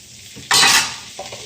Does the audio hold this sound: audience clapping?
no